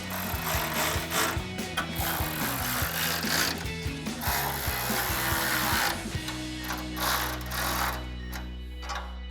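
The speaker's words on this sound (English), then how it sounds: "we're gonna take a 5mm Allen wrench and 13mm socket to tighten these down" A ratchet with a 13mm socket tightens bolts on a Barricade pre-runner front bumper on a 2009-2014 Ford F-150, a rapid run of clicking strokes close up, then quieter mechanical noise at the end.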